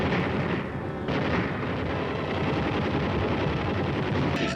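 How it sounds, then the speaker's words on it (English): Continuous heavy .50 caliber machine gun fire in a Korean War combat setting, a dense, loud, rumbling roar with no clear gaps between rounds. "Red rear guard positions are raked with .50 caliber fire"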